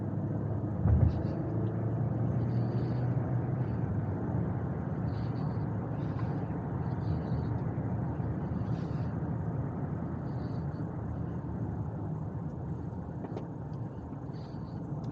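A 2020 Ford Edge Titanium accelerates hard, a steady low engine and road rumble heard from inside the cabin, with a faint voice now and then over the drone.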